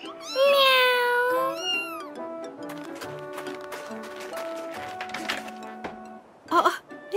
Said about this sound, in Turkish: Kedi. Miyav miyav diyor.